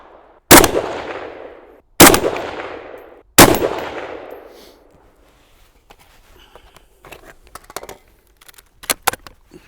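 Three loud rifle shots firing .223 solid copper core ammunition, evenly spaced with sharp cracks and trailing echoes, then scattered clicks and metallic handling clatter.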